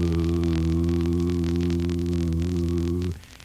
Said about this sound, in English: The sound of the generator and the sound of the keyer going night after night